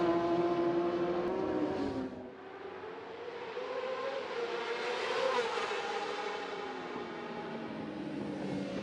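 Racing motorcycles scream past during practice for the 2023 Macau Grand Prix motorcycle race on the street circuit, a high engine whine rising and falling as the bikes pass, moderately distant.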